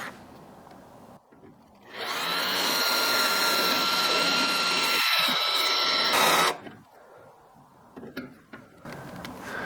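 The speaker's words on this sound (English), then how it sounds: "get those holes drilled directly through the chassis using the bracket as a guide" A power drill whines loudly and steadily for about four seconds, boring into a steel kit-car chassis close up, then stops, leaving quiet clatter and handling noises.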